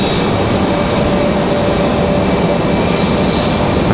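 A JetBlue airliner takes off at Raleigh-Durham International Airport, its engines a loud, steady, broadband jet roar that holds at full strength the whole time with no voices.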